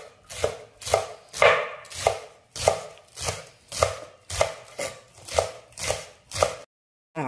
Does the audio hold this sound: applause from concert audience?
no